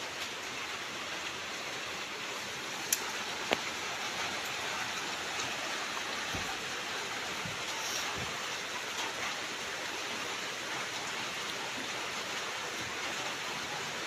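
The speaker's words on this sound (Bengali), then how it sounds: "সকাল সকাল বৃষ্টির আগমন শুরু," Morning rain falls outside while the sun is still shining, a steady soft hiss of drops heard from indoors at a distance, with a couple of faint clicks partway through.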